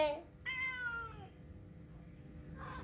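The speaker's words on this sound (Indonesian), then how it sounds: "Dia mengeong-ngeong." A cat meows a few times, a drawn-out call followed by a shorter one, fairly close and clear against a quiet background.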